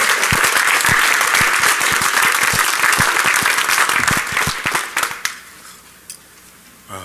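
Loud, dense applause from a Defcon hacker conference audience, sustained for several seconds with a few sharp individual claps, then tapering off abruptly into quiet room tone.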